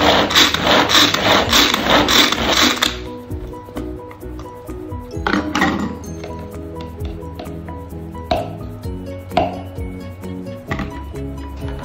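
TurboMax manual food chopper cutting ingredients for a festive menu: a harsh whirring rasp for the first few seconds, then uneven rattling, clicking and scraping of blades and food inside the plastic bowl, close and fairly loud without speech.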